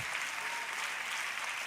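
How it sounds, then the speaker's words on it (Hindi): Sustained applause from an audience at an indoor ceremony, a dense, even hiss of many hands clapping heard from a distance, steady throughout. "जरा तालियां फिर से जोरदार हाथ उठाकर, और अगले 20 सेकंड तक जरा बजाइए जोरदार।"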